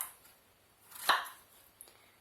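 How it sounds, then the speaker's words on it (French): A knife chops through courgettes into chunks on a board, one clear near thud-crack in the middle with a fainter cut near the end, otherwise quiet. "Pour les courgettes, je les coupe en tronçons."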